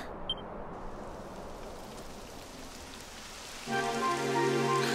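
Steady rain hisses across a surface in Dragon Quest XI, a broad soft wash of falling drops that thickens partway through as a layered tonal ambience swells in beneath it.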